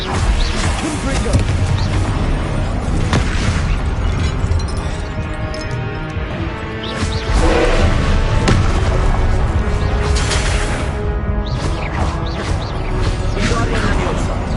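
Loud Harry Potter video game combat with the Confringo explosion spell, crashing booms and whooshes in a dense, continuous barrage, with a voice shouting spell names over the fighting.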